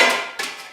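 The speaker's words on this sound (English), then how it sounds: "hammer." Hammer striking sheet metal on a dolly with a flat face: a loud, bright metallic ring decaying from one blow, then a second strike adding a short burst before fading.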